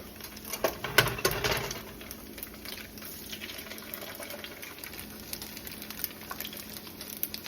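Eggs cracked into hot oil in a pan, a faint sharp tap followed by a bright crackling sizzle that swells and then settles into a steady fry, close up and without talk.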